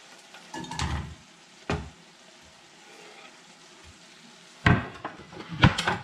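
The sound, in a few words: red onion frying in olive oil in a pan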